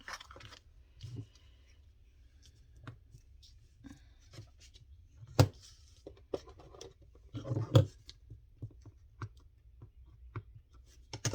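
Ink rubbed around the paper edges of a handmade craft cover makes soft, close scratchy scuffs in short, irregular strokes, with a couple of sharper taps in quiet surroundings.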